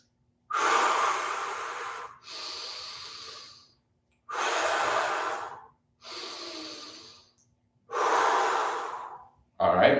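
Deep, slow breaths during a squat workout breathing drill, five long airy inhales and exhales, each lasting a second or two and separated by short silent holds, close and clear.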